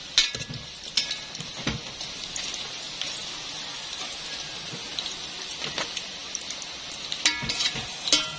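Kikiam fries in a pan with a steady low sizzle, broken by sharp crackles and clatters of stirring throughout.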